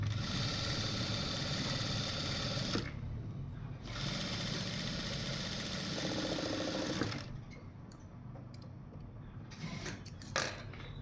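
A sewing machine stitching piping, a rapid whirring mechanical run in close bursts, pausing briefly, then running again and stopping, with quieter clicks and handling after.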